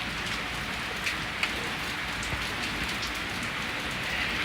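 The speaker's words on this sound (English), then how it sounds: "it's raining too hard" Heavy rain pours steadily outdoors, a dense continuous hiss of drops drumming on surfaces with no talk, loud and close throughout.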